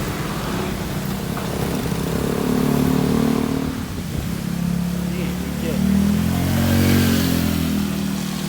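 Honda Wave 125i project motorcycle engine idling and revving in rising and falling surges close by, with people talking over it.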